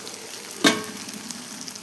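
Catla fish pieces frying in oil with spices and a little yogurt, a brief burst of sizzle as the fish hits the pan, then a steady low crackle.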